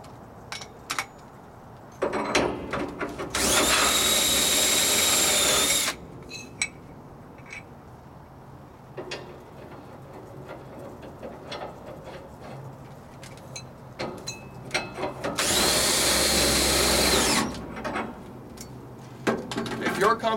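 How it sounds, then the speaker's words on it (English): A screw gun spins off the spring adjustment nut on a dock leveler in two loud, sustained whirring bursts of about two seconds each. Metallic clicks and tool handling fill the gaps, and a voice speaks between the bursts. "a screw gun can be used to remove the adjustment nut even more quickly"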